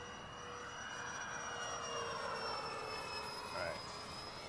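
An Xfly J65 twin-EDF radio-controlled model jet flies overhead with a steady, whining ducted-fan roar that swells slightly as it passes at moderate distance, while a person talks throughout.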